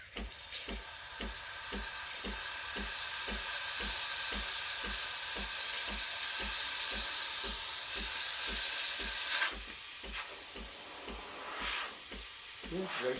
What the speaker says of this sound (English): Yeah, very strong steam.